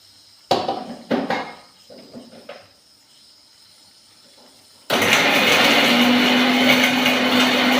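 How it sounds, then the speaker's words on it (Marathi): A mixer grinder grinds coriander and masala powder. A few knocks and handling sounds come first, then the motor starts with a loud, steady whirring roar that runs to the end. "तर हे आपले मिक्सर में बारीक करना है. तो आपण बारीक कर ते मिक्सर में बारीक कर घेऊ"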